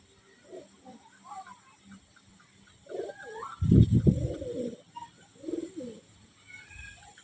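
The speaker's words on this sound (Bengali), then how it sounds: "সন্ধ্যাবেলায় নামতক। এই নামছে কবুতর।" Pigeons settling down for the evening give soft, scattered coos, with one louder, fuller cooing burst in the middle, heard close by against a quiet background.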